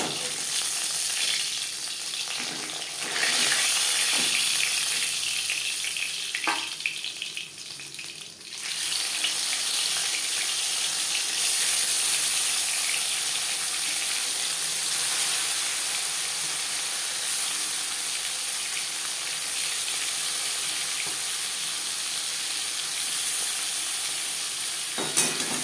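Bhetki, a sea fish, fries in hot oil in a pan, a steady, dense sizzle holding at the same level throughout with a brief dip in the middle, no talking.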